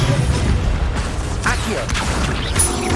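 Incendio fire spell cast in Hogwarts Legacy, a burst of whooshing, crackling magical effects over a dense rumbling game soundscape lasting a few seconds.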